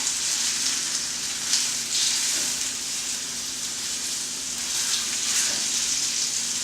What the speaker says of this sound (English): this is the part where the oil starts to jump